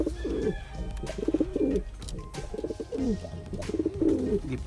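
Young pigeons coo in soft, repeated low bursts close by, with a faint background hum and no voices.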